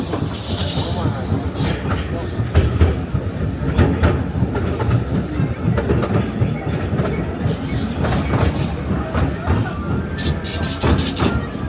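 A Legoland Windsor resort train rolls along its rails with steady clickety-clack and rumble, occasional wheel squeals and hiss, while people talk at times over the running noise.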